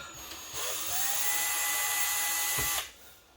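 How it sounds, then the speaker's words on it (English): A power drill whirs for about two seconds at a steady high pitch, removing laptop screws, starting and stopping abruptly, close by with quiet before and after. "Yeah, I think the drill's going to be better for this."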